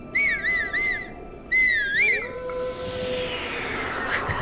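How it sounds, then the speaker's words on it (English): A melodic warbling whistle from the video game Zelda: Breath of the Wild, two bursts of quick trilled notes, followed by a sliding tone and a soft, spreading wash of game sound effects. "A whistle and the wolf howls in response."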